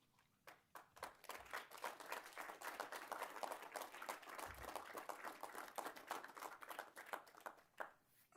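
Scattered applause from an audience at a town council meeting, a dense patter of claps building quickly and holding for several seconds before thinning out.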